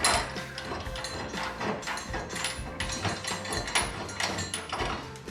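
Metallic ratcheting and clanking at close range as a Hayman Reese tow bar plate is bolted up into the chassis rail of a 2018 Ford Ranger PXII, with quick repeated clicks and knocks of tool on bolt.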